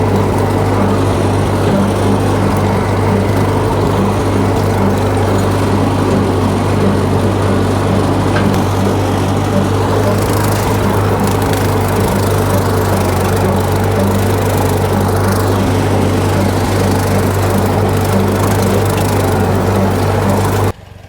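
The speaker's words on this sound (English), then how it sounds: "I just got done mowing." Lawn mower cutting tall dead weeds in a clover field, a loud steady engine drone running without a break, close by and alone with no talking.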